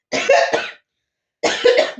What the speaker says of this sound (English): I cough when I tell lies